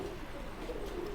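A cheap pigeon at a Delhi bird market gives a short, low, breathy coo up close under steady background noise.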